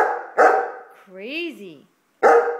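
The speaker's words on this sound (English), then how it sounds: "Yeah, and you're barking. Are you barking at the moon?" A Bernese Mountain Dog gives two loud, close barks spaced about two seconds apart, with a person talking in between.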